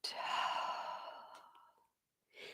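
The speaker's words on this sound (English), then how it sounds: "And breathing out." A long, breathy exhale during a yoga session, loud at first and then fading gradually over about two seconds, followed by a short pause and the start of a soft inhale.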